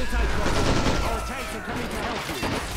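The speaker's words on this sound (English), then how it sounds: "when your squad is just opening fire" Squad gunfire in the Men of War Assault Squad 2 war game during a village assault, a dense continuous fusillade of overlapping rifle and machine-gun shots, loud and sustained throughout.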